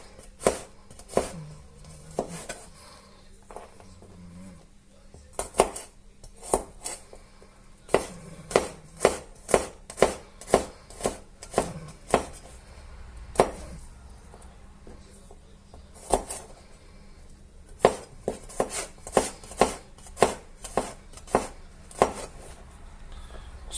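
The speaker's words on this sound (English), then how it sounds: "And now for the garlic, which I will also chop up" Garlic is chopped into small bits on a board, a close series of sharp knife taps in quick bursts with short pauses between them, clear and alone.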